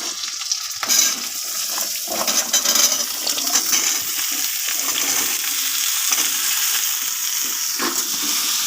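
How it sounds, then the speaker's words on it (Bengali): Potatoes fry in hot oil in a pan with spices, a dense steady sizzle throughout, with a few light clinks and stirring scrapes on top. "এবার এর মধ্যে আলুটা দিয়ে দেব"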